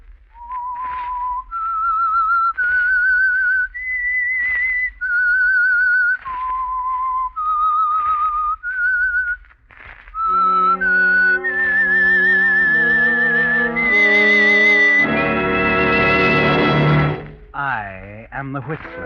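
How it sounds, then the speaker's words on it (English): A lone whistler carries the signal theme of The Whistler radio mystery program, a slow melody of sustained pure notes that ends on a swelling full orchestral chord, loud and close. "That whistle is your signal for the Signal Oil program"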